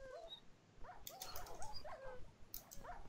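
Pet dogs in the Minecraft video game let out high, wavering whimpers and yips in quick clusters, faint but clear over quiet game noise, with a couple of sharper clicks.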